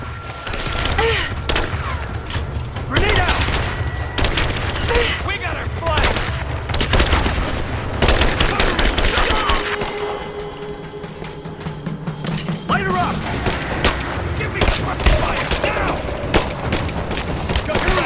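Rapid bursts of gunfire in the video game Rise of the Tomb Raider, loud and close, with repeated volleys, booms and sustained automatic fire throughout, while combat voices shout over it.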